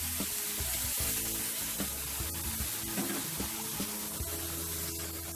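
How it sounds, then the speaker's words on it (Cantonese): Hot water hits pan-fried sea fish for tomato fish soup, giving a steady hissing sizzle with soft bubbling and light clatter, close and fairly quiet. "魚煎香嘅時候咧，我哋要加熱水。"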